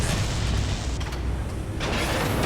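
The radome blowing up in the video game Metal Gear Solid: a sustained, loud rumbling explosion with heavy low-end roar and a few sharper bursts and crackles layered through it.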